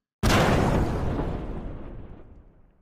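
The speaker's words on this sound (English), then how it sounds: "like this explosion sound" A game sound-design explosion hits abruptly with a loud, full-bodied boom, then rumbles and decays smoothly over about two and a half seconds into silence.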